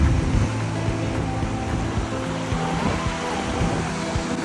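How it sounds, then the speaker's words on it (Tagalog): High ocean waves crash and surge along the shore at Mauban, Quezon, a steady loud roar of surf with a low rumble throughout, no voices present. "Taas ang alon."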